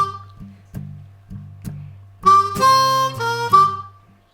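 Harmonica playing a beginner hook-based blues riff, low rhythmic chugs building into brighter sustained chords; close and fairly loud, no talking.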